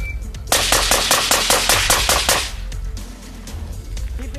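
A carbine fires about ten rapid, loud shots in an even burst, followed by a brief echoing tail and a lower rumbling background.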